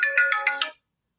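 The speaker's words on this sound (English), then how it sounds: "my phone is ringing" A phone ringtone chimes in five quick, evenly spaced bursts at close range, then stops and leaves silence.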